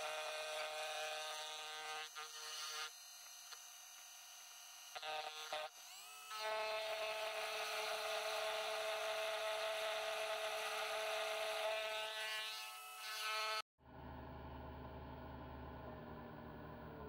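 A Sieg SX2P mini mill machines a metal part smooth with a steady, close, loud motor whine and cutting hum running almost continuously, briefly dipping a few times before shifting to a lower drone near the end.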